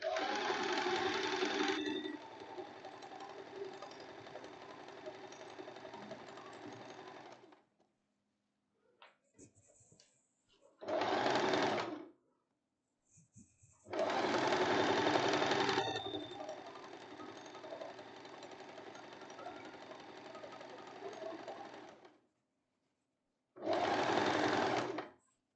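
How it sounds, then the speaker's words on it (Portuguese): A sewing machine stitches elastic-waist trousers in several long runs separated by pauses, its steady fast whirring and needle chatter close and clear, with brief handling sounds in the gaps. "agora eu venho costurando aqui o outro"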